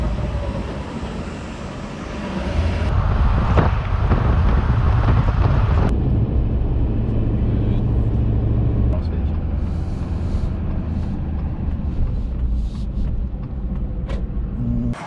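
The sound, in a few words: riding in a pickup truck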